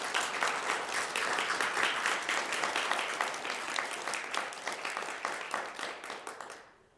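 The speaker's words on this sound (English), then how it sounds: "let's give the CGI staff a round of applause" Warm, dense applause from a commencement ceremony audience for staff, an even roar of many hands clapping that holds for several seconds before cutting off abruptly.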